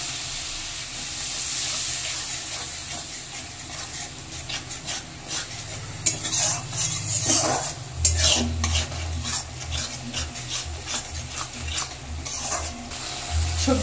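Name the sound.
stirring and frying spice paste in a pan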